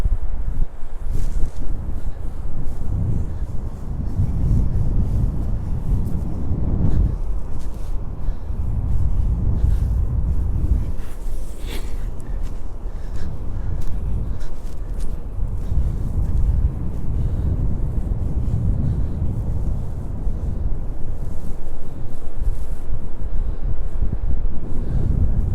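Cold wind blowing hard across an open seaside beach at Sutton on Sea, a loud continuous roar buffeting the microphone with a faint wash of waves beneath, no voices.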